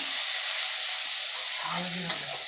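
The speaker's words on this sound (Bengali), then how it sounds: "আর এই পাশে আমার পেঁয়াজগুলো ভাজা হয়ে যাচ্ছে দেখো" Onions sizzle and crackle steadily in a hot pan, with a few light stirring scrapes and a clink near the end.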